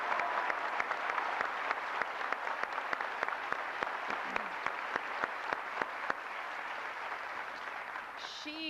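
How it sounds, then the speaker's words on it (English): Sustained applause from a large crowd at a university commencement ceremony, steady dense clapping throughout with a few sharper claps standing out, and a voice briefly heard near the end. "let's give her another round of applause,"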